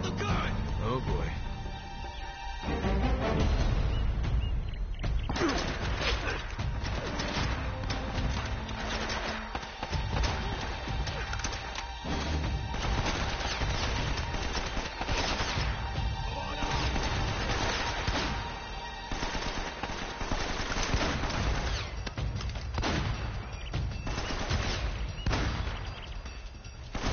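A mounted gun fires in Uncharted: Drake's Fortune, with heavy bursts and crashing impacts running almost without pause beneath shouting voices.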